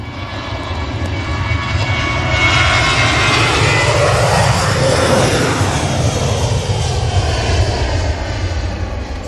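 Jet engines roar as an airliner takes off at Manchester Airport, a loud, sustained, broadband rumble that swells steadily before easing slightly toward the end.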